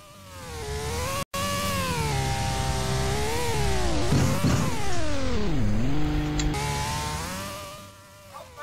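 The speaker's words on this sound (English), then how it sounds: "This is a drift car." Drift car driving in a Roblox game, a continuous buzzy synthetic engine whine with harmonics rising and falling as revs change, one brief dropout early, then steady revving before fading at the end.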